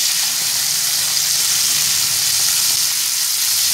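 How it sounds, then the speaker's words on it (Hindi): Pieces of chicken fry in a pan with a steady, dense sizzle that holds at an even level throughout, close up and without any talking. "अब चिकन को करेंगे फ्राई।"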